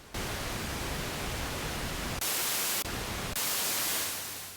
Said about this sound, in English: and here's pink noise.